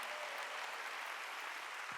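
Church congregation at a Wednesday worship service applauding, a dense, steady roar of many hands clapping throughout, loud and close with no pauses.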